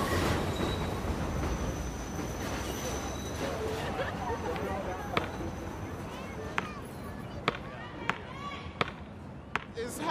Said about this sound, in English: The subway right there